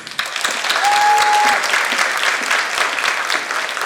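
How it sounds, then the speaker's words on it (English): A crowd at an awards banquet claps for the resident assistants, dense sustained applause filling the room from start to finish, with a brief whistle or squeak sounding early on. "I want to give them a round of applause."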